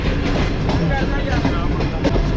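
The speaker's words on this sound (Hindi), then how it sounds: "ये दरियाए रावी के ऊपर बने हुए रावी ब्रिज को स्किप करने के लिए ट्रेन हमारी जा रही है आगे" Tezgam passenger train rolling toward the Ravi bridge over the Ravi river, a steady close rumble with wheel clatter and rhythmic clicks throughout, a faint voice in the background.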